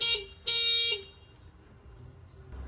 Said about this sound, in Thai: แตรรถนะคะ เสียงดังฟังชัดนะคะ